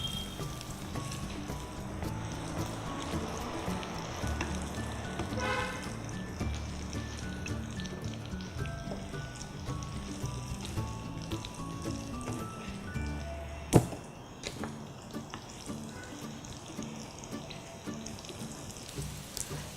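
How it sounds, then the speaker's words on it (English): Rava-coated banana slices sizzling and crackling in hot oil in a pan, a steady fizzing spatter throughout with a single sharp clink partway through and no speech. "The rava banana fry is now ready. It's been fried on both the sides."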